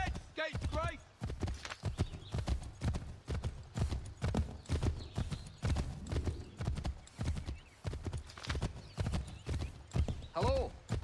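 Horse hooves clip-clop steadily in Assassin's Creed 3, a repeating rhythmic trot with a brief whinny, running under near continuous talk throughout.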